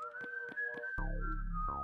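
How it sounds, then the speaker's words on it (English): Whistling in a tense crime-drama scene: one long, steady-pitched whistle held over three quick rhythmic pulses, then a sudden shift into a fuller, buzzier tone that carries on alone to the end. "Why are they whistling?"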